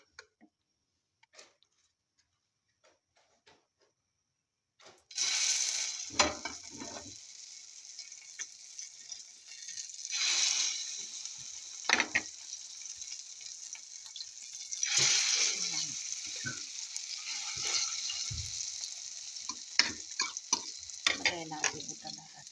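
Eggplant omelette (tortang talong) frying in a small amount of oil, starting after near-silence with a sudden loud sizzle that settles into steady crackling, broken by occasional clinks and scrapes of a utensil.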